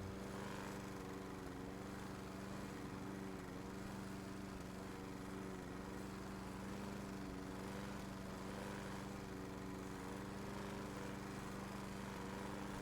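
Lawn mower engine droning steadily in a lawn-mowing video game, a constant mid-loud hum with a low tonal buzz and no speech over it.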